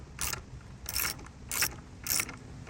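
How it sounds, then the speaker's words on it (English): Ratchet wrench clicking as it turns a fastener while fixing a wooden fence door, four distinct bursts of bright rapid ratcheting roughly every 0.6 seconds, close and fairly loud, with no talk. "it's always good to have ratchets, man"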